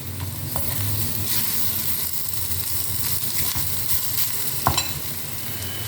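Curry leaves sizzling in hot tempering oil for a vazhaipoo puli kootu with the gas switched off, a steady close crackling fry with a brief stirring knock near the end, no talk.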